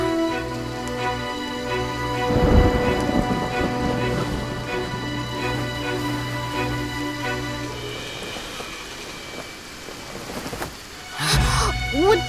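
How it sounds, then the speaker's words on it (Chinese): A night thunderstorm in a costume drama, with a deep rumble of thunder and a steady wash of rain under background music, ending in another loud thunder burst. "外面打雷了，我很害怕"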